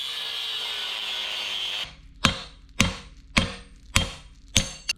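A reciprocating saw cuts welds off the passenger-side tube of a Super Duty Dana 60 axle, giving a loud, steady metallic buzz for about two seconds, followed by five sharp, evenly spaced knocks.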